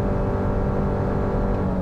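A 2022 Subaru Forester Wilderness with a CVT accelerating, the engine droning steadily at high revs, loud and continuous throughout with no talking.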